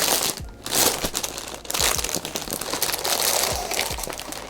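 Plastic packaging from a Day6 Denimals picnic mat merch unboxing crinkles and crackles close up in repeated handling bursts, loud and busy with brief pauses between handfuls.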